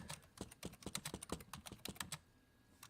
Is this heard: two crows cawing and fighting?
no